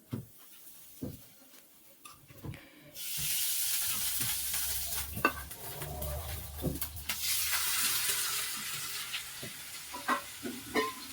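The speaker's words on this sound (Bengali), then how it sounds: "এবার আমি আলুগুলো ভেজে নেব" Potatoes fry in a hot wok, with a loud, steady sizzle that swells after a quieter start and continues with occasional stirring clatter and pops.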